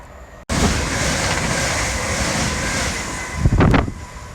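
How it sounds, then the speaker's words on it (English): A Heathrow Express fast service from Terminal 5 to Paddington rushes past at West Ealing on the Great Western Main Line, a loud steady roar of wheels and air that swells with a brief sharper surge near the end. "that was a Heathrow Express train from Terminal 5 to Paddington"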